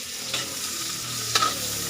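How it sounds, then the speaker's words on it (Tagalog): Onion sautéing in a hot pan for an Ilocano-style dish, a close, steady sizzle broken by a couple of sharp scrapes of a stirring utensil, with no speech. "nagigisa na po tayo. Unahin natin yung sibuyas."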